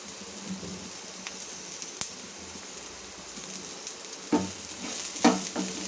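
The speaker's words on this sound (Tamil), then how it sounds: "இன்னும் கொஞ்சம் வதங்கட்டுங்க." Onions sautéing in a pan for a Tamil egg curry: a soft, even frying hiss runs throughout at a moderate distance, with a few sharper stirring clicks near the end.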